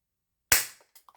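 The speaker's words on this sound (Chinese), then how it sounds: "我们把它全部打完没有子弹了没有子弹它就会后定" A Maruyama MP9 gas blowback airsoft gun fires a single sharp report, close and loud, followed by a few faint mechanical clicks as the bolt locks back on an empty magazine.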